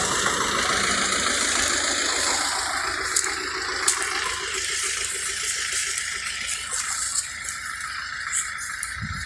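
A tractor engine pulls a 1.8 SZ seed drill during autumn sowing beside a small river, a steady mid-pitched drone running throughout with faint clinks and water-like hiss over it.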